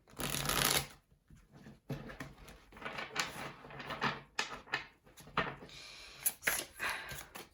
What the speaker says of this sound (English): Let's shuffle the cards a little bit.